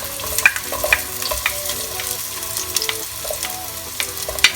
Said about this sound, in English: Once our oil is nice and hot, we can now add in our garlic and our onions